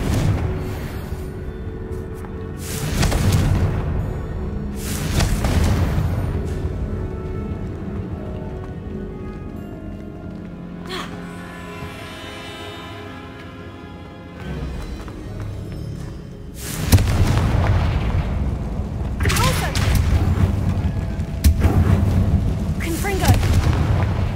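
A Confringo fire spell explodes in Hogwarts Legacy, sounding as heavy booming bursts with crackling rumble, loud and full, repeated several times across the stretch amid game music and effects.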